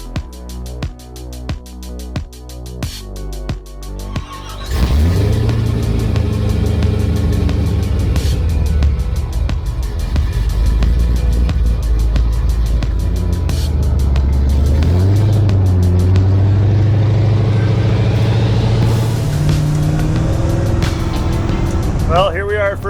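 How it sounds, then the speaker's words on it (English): A 1955 Chevrolet fitted with a 1,000-horsepower engine idles with a lumpy rhythmic burble, then pulls away in a loud, sustained roar that climbs through revs close by. "here we are, first driving the 55 Chevy for me"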